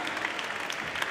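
Applause at a university graduation ceremony: a steady, dense wash of many hands clapping together from a seated audience in a hall, continuous and moderately loud throughout.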